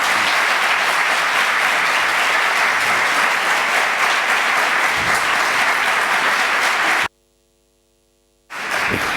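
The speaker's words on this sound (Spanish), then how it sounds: "Les pido un aplauso de bienvenida a don Benigno Blanco" Audience applause welcoming speaker Benigno Blanco at a Newman Seminar talk: loud, sustained clapping from a hall crowd over a faint mains hum, cutting to brief silence before resuming.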